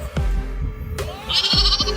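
A young lamb on a desert farm bleats several times in quick succession, close and loud, with short wavering cries and a brief rustle between them.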